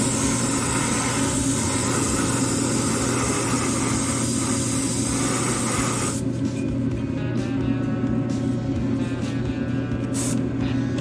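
Continuous hissing spray of an airbrush painting a Tamiya 1/12 Lola T-70 Mk.3 plastic model car body, steady and close, with a compressor hum underneath; the spray cuts off partway through, leaving the hum alone.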